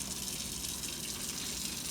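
Lukewarm water runs steadily from a tap while a glass waterpipe is rinsed, a close, even hiss and gush that holds constant throughout with no talking.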